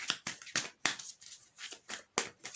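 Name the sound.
shuffling tarot cards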